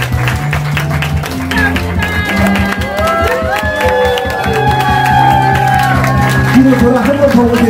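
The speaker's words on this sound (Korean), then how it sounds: "큰 박수로 두 사람의 미래를 축복하는 박수로서 우리 함께 하겠습니다" Wedding guests at a church ceremony applaud and cheer as the bride and groom walk out, steady clapping with whoops and a crowd's voices, over background music.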